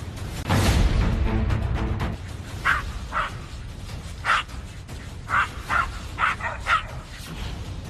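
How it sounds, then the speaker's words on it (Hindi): A dog barks and yips repeatedly while running beneath a trampoline, with a burst of noise near the start followed by several distinct, fairly close barks spaced irregularly. "इस ट्रैम्पोलिन झूले के नीचे एक डॉगी भौंकता हुआ दौड़ रहा है।"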